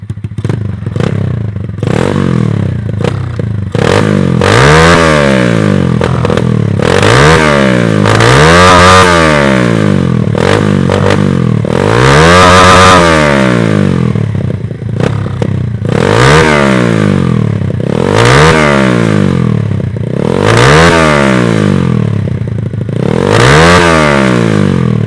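A pit bike engine fitted with a modified high rev limiter, revving hard and bouncing off the limiter repeatedly in loud, close, rhythmic surges of rising and falling pitch with harsh clattering, no voices.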